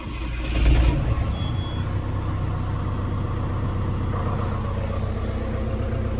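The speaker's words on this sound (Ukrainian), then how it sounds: "Двигун четверочка з турбінкою працює ідеально." A John Deere 6320 tractor's four-cylinder turbo diesel engine idles steadily nearby with a low, even rumble and a faint turbo whine, running smoothly without any change in pace.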